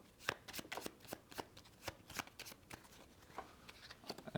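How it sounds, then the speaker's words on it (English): A deck of cards is riffled and shuffled by hand during a tabletop game, a quick run of crisp, papery flutters and snaps repeating close up in uneven bursts. "We'll shuffle those up."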